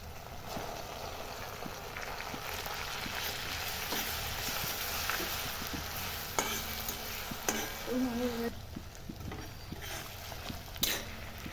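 Garlic paste stirred and fried for a Bengali-style home duck curry, a quiet, steady sizzle with intermittent scraping and tapping of a spoon in the pot.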